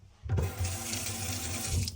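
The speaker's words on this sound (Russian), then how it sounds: "Давайте мы посмотрим напор воды." Water gushes steadily from a tap in an apartment for sale, starting abruptly after a brief quiet moment and running loud and close as a continuous rush, with no talking.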